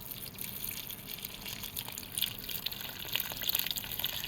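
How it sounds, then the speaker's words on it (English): Hot water poured into a pot on the fire while cooking Ekpang Nkukwo, a soft continuous splashing trickle that stays fairly quiet and steady throughout. "And then add water. This is hot water."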